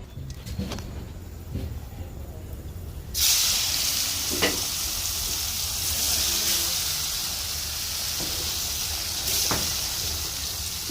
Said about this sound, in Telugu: మొత్తం అయితే బాగా ఆయిల్లో ఫ్రై చేసి ఒక పక్క తీసేద్దాం పన్నీర్ ముక్కలు